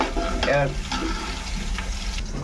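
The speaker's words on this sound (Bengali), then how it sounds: "এই যে পেঁয়াজ দিছি, লাল করতেছি" Onions fry in a pan, giving a close, steady sizzle with some stirring. A voice briefly overlaps near the start.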